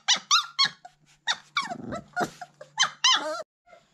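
Puppies bark, yap and growl at their mother dog indoors, a close run of high squeaky barks and whines over a low sustained growl, then a brief pause.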